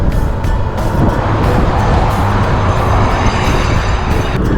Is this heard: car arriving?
yes